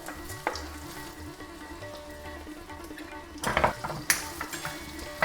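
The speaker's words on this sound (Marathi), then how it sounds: "बटाटे चांगले परतून घेऊया" Potatoes sautéing with cumin in oil and a spoonful of ghee, a low steady sizzle near the pan with bursts of louder spitting and metal stirring clatter toward the end.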